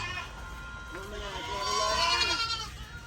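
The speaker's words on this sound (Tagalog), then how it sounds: "Yan, mga kambing." Goats on a small farm bleat in a few wavering, mid-loud calls over steady background noise.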